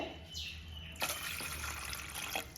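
Water, about one and a half cups, pours steadily into a pot for noodles, a close, continuous splashing rush that starts after a brief quiet moment.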